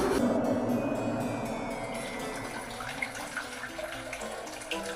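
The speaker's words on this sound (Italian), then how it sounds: "Riscaldiamo l'acqua, la buttiamo su e cuciniamo un po' di pasta." Heated water being poured for cooking pasta, a continuous rushing and splashing stream that holds fairly loud and steady throughout, with no talking.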